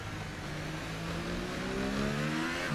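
In an F1 2018 racing game, a damaged race car engine revs hard with a continuous droning whine that rises slightly in pitch, loud and steady throughout with no talking.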